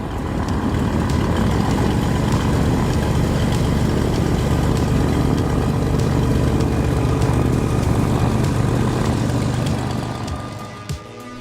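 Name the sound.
Piper Malibu Mirage propeller aircraft engine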